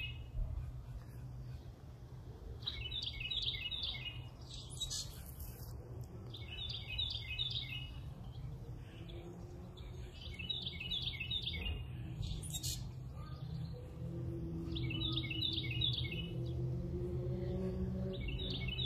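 A wild bird sings in a backyard, repeating short bright chirping phrases every few seconds at moderate distance over a low background rumble, with a voice speaking softly at times.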